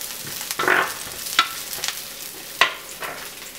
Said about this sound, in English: So just make sure the onions are get nice and caramelized in there.